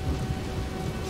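In Skyrim, steady heavy rain hisses while low thunder rumbles underneath, a continuous, fairly loud storm wash with no speech.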